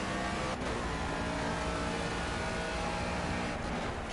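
A race car engine on a lap of Le Mans in the video game Project CARS drones loud and steady at high revs, with a slight shift in pitch near the start and end and no break, no talk.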